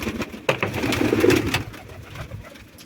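Pigeons cooing close by in a pigeon loft on a hot day, a few soft low throaty coos with faint rustling in the background.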